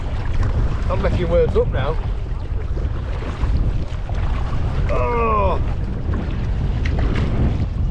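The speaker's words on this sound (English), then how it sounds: "wind's got up again" Strong, steady wind over the North Sea at Cleethorpes roars and buffets the microphone throughout, with a voice talking briefly twice over the gusty rush.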